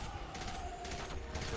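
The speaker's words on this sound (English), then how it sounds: "There are explosions going on." Explosions and gunfire erupt in the Destiny 2 video game, a dense run of booming bursts that keeps rolling throughout with no pause, set against a low steady drone.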